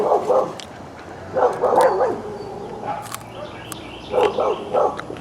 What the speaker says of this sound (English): dogs are fighting, well, arguing with the neighbor's dogs